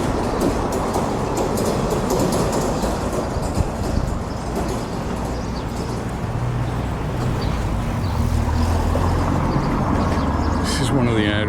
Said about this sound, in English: This is one of the areas where they've got these cobblestones and it does slow the traffic down, I think, but it's very noisy.